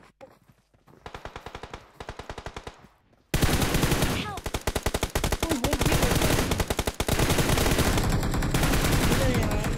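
Automatic gunfire in a PUBG Mobile match: rapid machine-gun bursts, first quieter and farther off, then a sudden loud close stream of shots continuing for several seconds.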